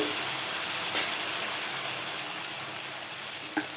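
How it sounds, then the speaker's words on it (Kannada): Tamarind juice and jaggery go into hot girmit masala of half-cooked green chillies and onions, giving a loud, steady steam hiss and sizzle that fades slightly, with a couple of faint clicks near the end. "ಈಗ ನಾನು ಹುಣಸೆ ರಸ ಹಾಕ್ತಾ ಇದ್ದೀನಿ ಬೆಲ್ಲ ಹಾಕ್ತಾ ಇದ್ದೀನಿ"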